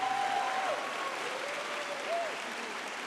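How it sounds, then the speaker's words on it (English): Steady audience applause at the WPC 2023 event, an even wash of clapping lasting about three seconds, with a faint whistle-like tone drifting through it. "An applause for her."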